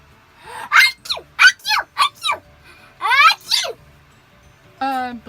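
A sneeze rings out after a few sharp vocal bursts, then a short high cry follows; close and loud against a quiet room.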